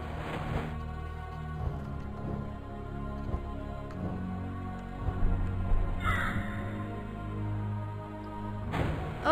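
A crow cawing in the video game A Crow In Hell: several harsh caws over a steady droning game soundtrack, with sharper bursts near the middle and end.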